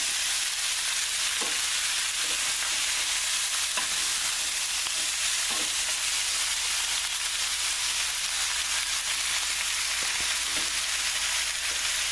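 Sauce for Swiss steak sizzles and bubbles steadily in a hot pan as it cooks down, a constant dense frying hiss with occasional faint stirring clicks and no voices.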